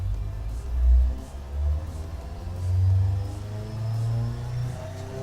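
A simulated turbocharged car engine from the Automation game revs on a dyno, with a low rumbling drone that swells and falls in several surges, steady and without talk.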